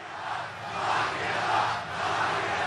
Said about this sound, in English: This is the Law and Order crowd chanting to lock people up with no due process or even having been accused of a crime.